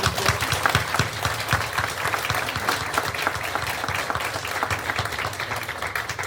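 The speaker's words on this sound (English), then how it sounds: "Can we get a round of applause for Laura?" A crowd gives Laura a loud, sustained round of applause at a Voices for Change event, dense clapping filling the space steadily from start to finish.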